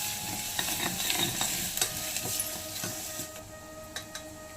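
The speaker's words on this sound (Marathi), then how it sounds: "वाटलेलं वास सुटेपर्यंत तळायचं चांगलं लसूण आल्याचं" A ground paste of green chili, ginger, garlic and curry leaves sizzles steadily in hot oil for a quick pulao, with a spoon scraping and clinking against the pan in scattered strokes throughout.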